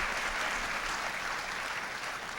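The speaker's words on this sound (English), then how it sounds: "I mean, they get a round of applause, I think, themselves." A large pageant audience gives a continuous, roaring round of applause for the production staff, loud and even throughout with no pauses and no voices standing out.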